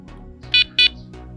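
A motorcycle vibration alarm gives two short, loud, high-pitched electronic beeps in quick succession over a low background hum, with no speech.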